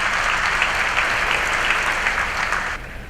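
Audience applause at a school event, dense steady clapping from a large crowd, loud and close, easing off slightly at the end.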